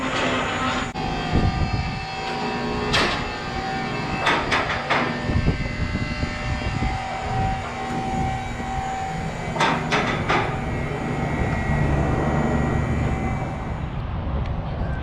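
Dodge Challenger Scat Pack V8 with JBA longtube headers and a straight-pipe exhaust, a loud roaring idle and revs with sharp cracks and bursts, close to the car and heard without talk.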